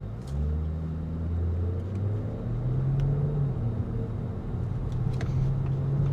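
A 2025 Audi S5 drives into a corner, its engine a low, moderate rumble whose pitch climbs as it pulls through the bend, with road and tyre noise in the cabin.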